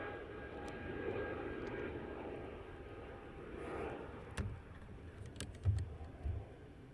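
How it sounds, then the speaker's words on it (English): A British Airways Boeing 777 departing Heathrow rumbles as a broad, distant engine roar that builds gently and holds. Sharp clicks and knocks sit over the roar near the microphone. "So we should have a British Airways 777 next."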